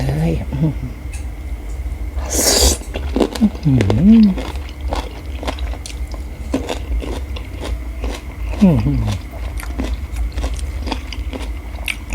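Close crunchy bites and chewing of crisp raw water spinach and cucumber, interrupted by brief murmured sounds and a short spoken word.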